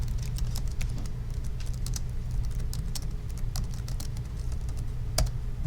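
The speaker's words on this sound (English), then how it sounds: "if I type that all correctly, which sometimes I don't" Rapid, uneven clicking of someone typing on a computer keyboard during a programming lecture, steady and close over a constant low background hum, with no speech.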